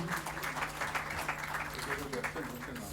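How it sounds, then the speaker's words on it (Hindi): Audience applause fills a celebration hall, dense and steady throughout, with voices murmuring underneath and a low constant hum. "आप लोगों से गुजारिश, इनके लिए ज़ोरदार तालियां"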